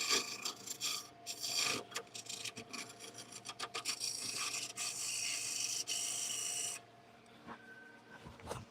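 Hand trimming of a wooden piece's edges with a rasp or file, steady scraping strokes in quick rhythmic runs, close and fairly quiet.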